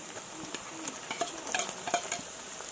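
Ginger garlic paste frying with browned onions for chicken fry, a soft sizzle under repeated scrapes and clinks of a spoon stirring in a pan, close and moderately loud.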